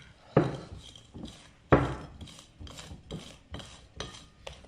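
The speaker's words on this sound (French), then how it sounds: "On mélange bien" Chocolate moelleux batter stirred in a bowl, a close series of rhythmic scraping and clinking strokes, about eight in under five seconds, a few of them sharper and louder, with no talk.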